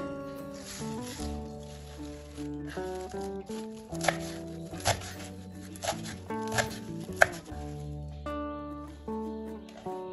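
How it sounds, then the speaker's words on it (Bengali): A knife finely chops pointed gourd leaves on a board in a series of soft, irregular cuts, with a few sharper strikes midway, set under quiet background music. "এবার এই পাতাগুলো একটু ছোট ছোট করে কুচিয়ে নেব"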